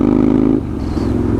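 A motorcycle with freshly fitted straight-pipe exhaust rumbles loudly and close by, a deep, throaty idle that shifts pitch partway through as the throttle is blipped.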